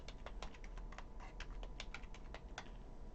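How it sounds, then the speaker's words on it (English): Quick, uneven clicks of a computer keyboard being typed on, close and fairly quiet, with no voices. "We are typing here our name"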